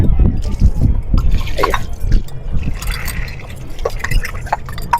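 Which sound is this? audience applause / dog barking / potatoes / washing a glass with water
washing a glass with water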